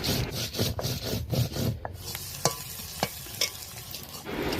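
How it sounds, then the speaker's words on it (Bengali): Spices being ground by hand on a stone for a meat curry in a village kitchen, a steady rhythmic rubbing and scraping with sharper knocks partway through, close and moderately loud with no talking. "একে একে মা মশলাপাতিগুলো বেটে নিচ্ছে, যেগুলো মাংসতে দেয়া হবে"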